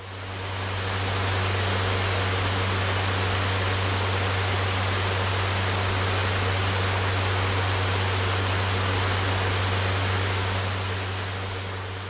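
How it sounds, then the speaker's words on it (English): An electric fan running steadily, a loud, even broadband rush with a low motor hum underneath, close and unchanging throughout with no talk. "It was a fan."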